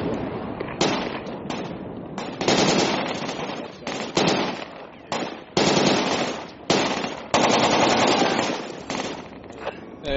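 Rapid bursts of video game gunfire, loud and close, firing in long sustained volleys with brief gaps between them, with faint talk occasionally underneath.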